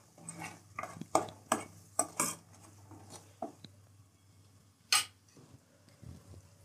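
Whole onion curry with hing and turmeric gets stirred in a pan, a series of distinct scraping and clinking strokes of a spoon against metal, close and fairly quiet, with pauses between.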